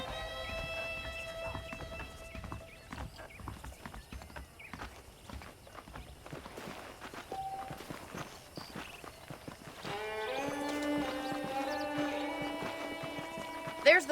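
Horse hooves clip-clop at a steady walking rhythm in Red Dead Redemption, close and clear, under continuous talking and a musical score that swells toward the end.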